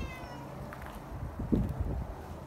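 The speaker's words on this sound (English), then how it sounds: "Meowing away." A cat meows a few times, moderately close, over steady outdoor background noise.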